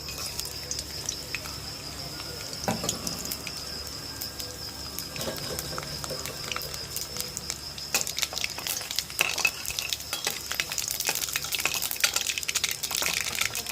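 Cumin, mustard seeds, chana dal and dried chillies sizzle steadily in hot oil, a continuous crackling fry with scattered sharp pops and stirring clinks growing busier toward the end, close and moderately loud with no talk.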